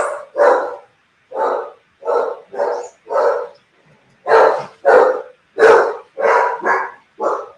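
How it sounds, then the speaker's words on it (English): Dogs bark in a steady run of about a dozen sharp, loud barks close by, evenly spaced with short silent gaps and one brief pause midway. "Don't know why the dogs are barking."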